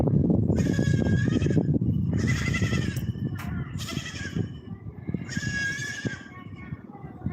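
Repeated high, wavering bleats from a young goat, three or four calls with short gaps, over a steady rumbling background noise.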